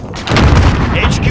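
A grenade blast in Call of Duty: Modern Warfare multiplayer, a loud, close, heavy boom that rumbles out over about a second.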